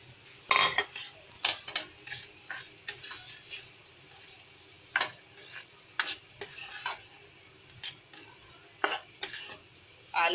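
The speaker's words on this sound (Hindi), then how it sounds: "अब हम इसमें टमाटर डालेंगे और ये फ्राई करे हुए आलू डालेंगे हम।" Tomatoes and fried potatoes go into a sauce in a pan for chana chaat, with a spoon stirring and scraping the metal in a run of separate clanks and scrapes. The spoon sounds are close but fairly quiet, with no talk.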